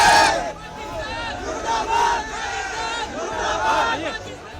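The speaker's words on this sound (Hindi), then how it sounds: "चंडीगढ़ में सिविल डिफेंस के लिए लोगों की भारी भीड़ उमड़ी" A large crowd gathered outside a government office in Chandigarh to volunteer for civil defence chants and shouts together in rising, rhythmic waves, with voices overlapping throughout.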